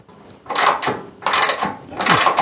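Nut and bolt being tightened with a ratcheting tool on the front wing of a Ford Consul, giving three close, bursts of clicking ratchet strokes with short pauses between them.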